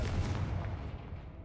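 A Confringo fire spell bursts in Hogwarts Legacy, a loud, dense rumbling blast that fills the moment and tails off as it fades.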